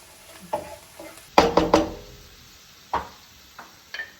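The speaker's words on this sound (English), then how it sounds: "Make sure you move them so they don't stick to the pot." Fava beans stirred in a cooking pot for a Moroccan dish, a few scraping, clattering strokes, loudest in a quick cluster midway, then softer single scrapes, close and without talk.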